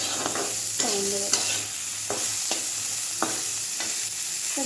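Tempering spices sizzle in hot oil in a pan for dal, including dry red chilli and white cumin. A steady frying hiss runs throughout, broken by several sharp clinks and scrapes of stirring, close by with no talk.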